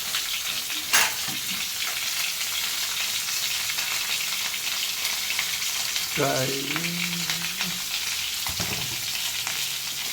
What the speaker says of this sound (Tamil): வெங்காயம், திருவி வச்சுருக்க கேரட் இது ரெண்டுத்தையும் ஆட் பண்ணிக்கலாம். இதை நல்லா இப்படி வதக்கிக்கலாம்.